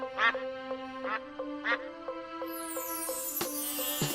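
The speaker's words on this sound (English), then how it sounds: "4 ducks." Ducks quacking in a counting song for children, several clear nasal quacks in a loose rhythm over a sustained musical tone, with other sounds rising toward the end.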